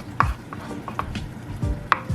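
A knife chops plantain into pieces on a cutting board, giving several close, crisp knocks at an irregular pace with light board rattle between strikes.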